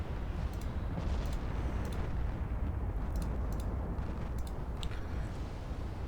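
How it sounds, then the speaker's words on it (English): Eight-inch naval guns on a Japanese dreadnought in a naval warfare game keep firing under a dense, continuous rumble of battle, with scattered sharp cracks and distant booms. "Still firing away with your 8-inch guns."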